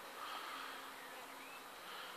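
Honeybees buzz steadily and continuously around a swarm lure box, a dense outdoor hum heard alone.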